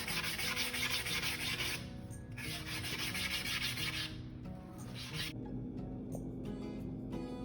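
Steady close rubbing and sanding scratches the hard epoxy surface of a collage tumbler in long continuous strokes, pausing briefly, then turning into lighter, intermittent scraping.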